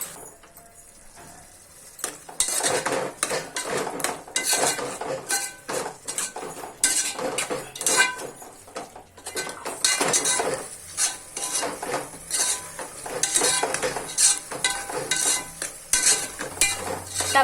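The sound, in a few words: tomatoes added to fried mushrooms, stirred in pan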